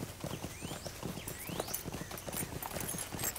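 Horse hooves clip-clop at a steady trot in the Lord of the Rings Online game, a rapid regular beat of hoof strikes close by, with faint bird chirps in the background.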